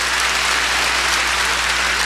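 Applause from a church congregation during a 1991 Christmas sermon, a steady dense wash of clapping filling the hall with a constant low hum underneath, no voices.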